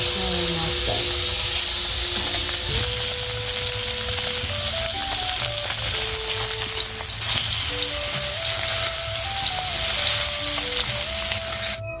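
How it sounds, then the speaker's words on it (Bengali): Lata and shingi fish fry hard in hot oil, giving a loud, constant sizzle and hiss close by, with faint stirring knocks and a steady tonal hum underneath; no talking. "তো এই জন্য একটু কড়া করেই ল্যাটা মাছগুলো ভেজে নিলাম।"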